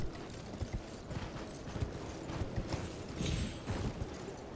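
Horse hooves gallop in the video game Elden Ring, a fast steady clip-clop of thudding footfalls over a rumbling background, loud and close throughout with no talking.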